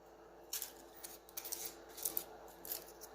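A sharp knife splits a vegetable on a cutting board in a kitchen, giving a quick run of faint crisp snaps and scrapes over about two and a half seconds.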